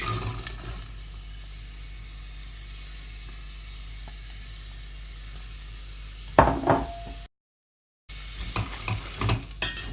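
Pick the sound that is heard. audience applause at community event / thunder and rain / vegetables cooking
vegetables cooking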